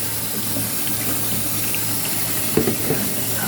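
Cold tap water runs steadily into a pot of boiled salted eggs, a continuous hissing splash with a couple of brief knocks near the end.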